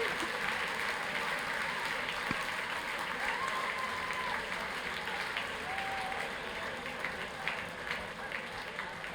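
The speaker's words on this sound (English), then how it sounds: "Please unmute yourselves and give yourself an extra big round of applause." Scattered applause from graduates unmuted on a video call during a virtual university graduation ceremony for a School of Science, a thin continuous patter of clapping heard through computer audio, fairly faint and steady.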